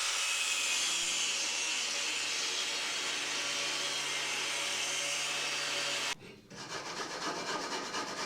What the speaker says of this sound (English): Just give the welds a bit of a scrub.